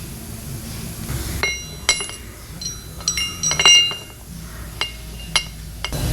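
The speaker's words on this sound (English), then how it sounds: "Get a bigger hammer." A hammer strikes a metal car part on a Nova being prepped for a race, giving sharp ringing clanks in an irregular series, some single and some in quick clusters, close up against faint shop background noise.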